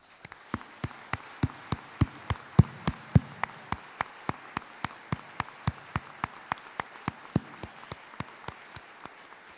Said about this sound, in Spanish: a mí me corresponde pedirles a ustedes el aplauso más importante del día